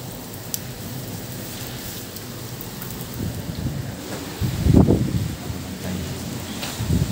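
Steady rain patters down at Mapua University with a low rumble of distant thunder swelling midway, no voices.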